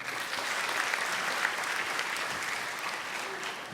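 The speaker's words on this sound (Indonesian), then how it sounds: "Keren itu, tepuk tangan dulu." A stand-up comedy audience breaks into dense, steady applause, a continuous wash of many hands clapping at an even level for a few seconds.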